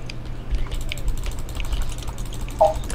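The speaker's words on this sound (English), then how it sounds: "I bet the mouse clicks in this video is real because I can see my mic going crazy every time I click the mouse." A computer mouse clicks during Call of Duty: World at War Zombies gameplay, a series of small sharp ticks close to the mic over a low hum, with a brighter pair of clicks near the end.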